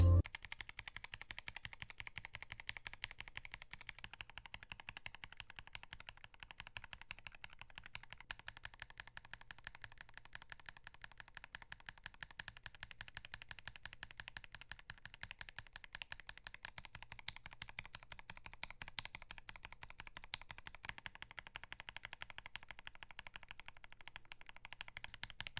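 Rapid, continuous clacking of typing on a keyboard fitted with budget linear switches, a fast dense patter of keystrokes held at a faint, even level for the whole stretch, with no talk.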